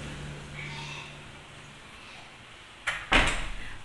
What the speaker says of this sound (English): So when you open the main door,